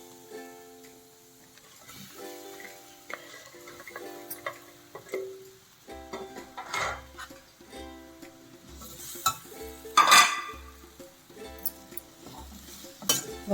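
Potatoes fried in a pan with chili powder, salt and onion paste give a soft sizzle, with stirring scrapes and light clinks of a spoon against the pan. Quiet harmonic tones sit underneath, and no one speaks.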